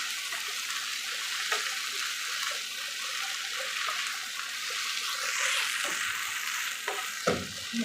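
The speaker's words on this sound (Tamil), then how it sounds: "நல்லா நம்மளுக்கு கீரை வணங்கி சுருண்டு வரணும்" Drumstick leaves sauté in a pan, giving a soft steady sizzle with occasional stirring scrapes and clicks.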